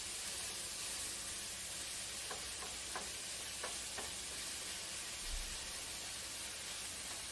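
Chicken stir-fry sizzling steadily in a pan over high heat, a broad constant hiss with a few brief clicks and pops, close and moderately loud, no talk.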